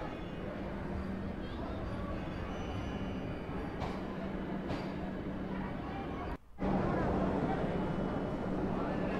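A train idles at a railway station platform on a pilgrimage route to Vaishno Devi, giving a steady low rumble with a humming drone, broken by one brief dropout before the noise resumes slightly louder.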